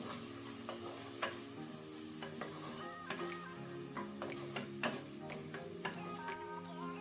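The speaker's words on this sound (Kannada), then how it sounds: "ಇದನ್ನು ಸ್ವಲ್ಪ ಲೋ ಫ್ಲೇಮಲ್ಲಿ ಒಂದು 30 ಸೆಕೆಂಡ್ಸ್ ಫ್ರೈ ಮಾಡ್ಕೊಳ್ಳುವ." Tomato with chili, coriander and turmeric powders fries gently over a low flame, a quiet steady sizzle punctuated by repeated light clicks and scrapes of a spoon against the pan.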